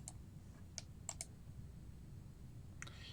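A few soft, close computer mouse clicks land at a refresh button, three or four short ticks in the first second and another near the end, faint over low background hum, with no voices.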